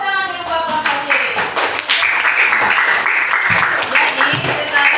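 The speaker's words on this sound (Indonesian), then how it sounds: "Ya, tepuk tangan dulu buat kelompok C." Classroom applause for a student group, rising into a dense, steady patter of clapping hands after an opening spoken phrase, with voices mixed in underneath.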